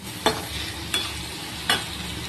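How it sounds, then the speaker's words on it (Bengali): Eggs stir-fried with homemade spices in a pan, a continuous loud sizzle broken by three evenly spaced scraping strokes of a spatula, close up with no voices. "আর দেখতেই পাচ্ছ এখানে কষিয়ে নিচ্ছি সুন্দরভাবে।"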